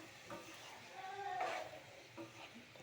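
Sliced ridge gourd tossed into a pan with fried onion and salt and stirred into a curry, a soft scrape and shuffle over faint sizzling, quiet and close, with light clatters of the pan.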